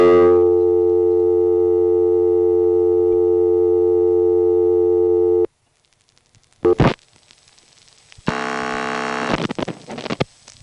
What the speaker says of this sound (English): let's get another dial tone, first the first selector, then the tone